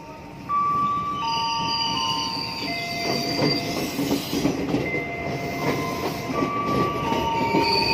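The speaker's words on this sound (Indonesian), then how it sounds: "Jalur satu masuk tujuan Jakarta Kota, jalur satu Jakarta Kota." A commuter train arrives at Kampung Bandan station in Jakarta, rumbling loudly and steadily with high metallic wheel squeals and rhythmic clatter over the rails.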